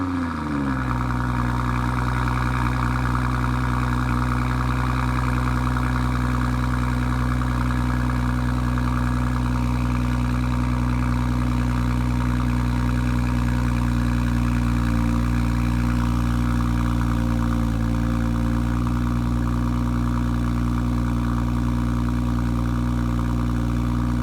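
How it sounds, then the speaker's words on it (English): A 2019 BMW X3 M40i starts up and settles into a steady, loud, close exhaust idle with a deep rumble, holding even for about twenty-four seconds with no talk. "hear the awesome exhaust sound that this vehicle has"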